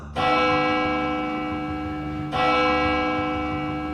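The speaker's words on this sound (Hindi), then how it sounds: "आज सिर्फ 2 ही घंटियां बजी" Two deep, resonant bell strikes ring out in a horror story, the first ringing long and slowly decaying, the second hitting about two seconds later with a rich tone that lingers, loud and close without speech.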